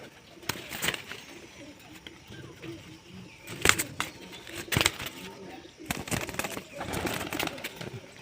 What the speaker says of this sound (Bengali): এই একটি পায়রা বেরোচ্ছে